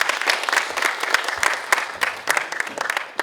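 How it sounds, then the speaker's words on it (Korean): Audience applause at a lecture event in a Korean cultural city centre, a sustained burst of many hands clapping at a moderate distance, fairly even without cheering. "여러분 큰 박수 부탁드리겠습니다."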